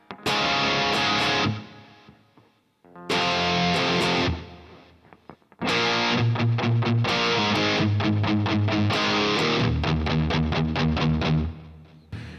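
Heavily distorted electric guitar power chords ring out loud, with two short bursts and gaps, then a longer driving passage of rhythmic chugging chords.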